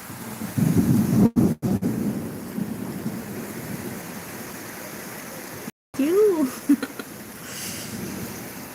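Steady rain with rolling thunder, a broad rumbling wash broken by a couple of abrupt cuts, with a voice briefly heard partway through.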